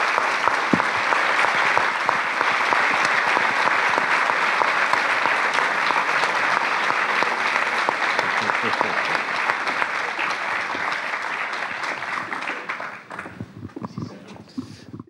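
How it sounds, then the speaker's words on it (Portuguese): An audience applauds a guest, professor Manuel Sobrinho Simões, at a public talk: dense, sustained clapping from a crowd, loud and even, thinning out in the final two seconds. "Uma grande salva de palmas para o professor Manuel Sobrinho Simões."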